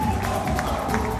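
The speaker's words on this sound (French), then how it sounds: "Morane, sous vos applaudissements." Carnival audience at a Martinique costume pageant cheering and clapping, a dense, loud crowd roar with whoops and applause throughout, a hum of tones beneath.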